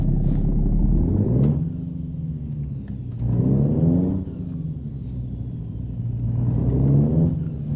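A modded Volvo truck engine in Euro Truck Simulator 2 rumbles and revs in three rising surges, each climbing through the gears then easing back to a steady drone, loud and close with no talk.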